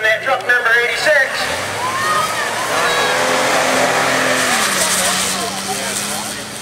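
Number 86 4x4 truck runs in sand drags at a Good Times 4x4 event, its loud engine roaring and sweeping up and down in pitch as it passes close by, with people talking over the noise.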